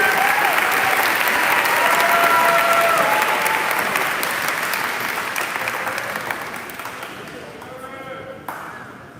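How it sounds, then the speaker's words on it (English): Sustained audience applause at a high school awards assembly, dense clapping from a large crowd that slowly fades over about nine seconds, with a few faint voices and cheers underneath. "Can we all give them a round of applause, please?"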